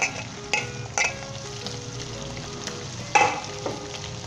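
Green chillies and tomatoes sizzle in a hot pan for a dal sabzi, a steady crackling fry with a few sharp clatters of utensils and stirring, close and moderately loud, with no talking.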